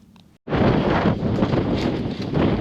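Strong wind on Fur Tor, Dartmoor, sweeps across open moorland after a brief quiet moment. It buffets the microphone with a loud, continuous roar that swells and eases.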